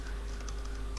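Quick typing on a computer keyboard while pairing a Bluetooth headset through a Linux terminal, a rapid run of light, close key clicks with a steady low hum beneath.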